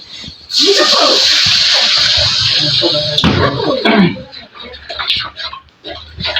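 Water poured into a hot pan for cooking, a loud rushing hiss and gurgling burst that flares up near the start, carries for a few seconds, then breaks into sputters beneath a nearby voice.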